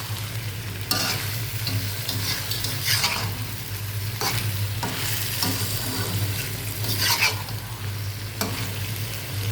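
Lightly fried taki fish being stirred through spices in a hot pan, a steady oily sizzle broken by repeated scraping strokes of a spatula, close and continuous with no talking.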